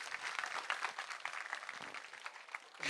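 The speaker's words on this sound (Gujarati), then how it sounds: "જોરદાર તાળીઓ" An audience at a book launch for Humbo Humbo Reloaded claps together, a dense, fairly faint round of applause from a crowd that holds steady for about three seconds.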